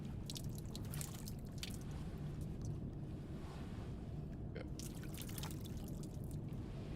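Water pours and trickles in Silent Hill f, a steady splashing wash with scattered drips and small splashes throughout, fairly close and continuous.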